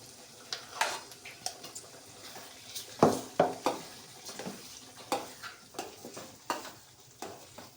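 Boiled khichdi is added slowly to a hot tempering and stirred, with a soft sizzle under repeated scraping and clinking strokes of a spoon against the pot at an uneven pace.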